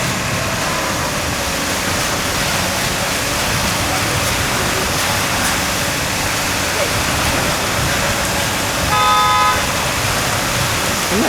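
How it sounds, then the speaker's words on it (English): A car horn toots briefly near the end over a steady rushing wash of traffic and water-like noise at a church basement construction site. "I'm not sure the honking is part of the system or not."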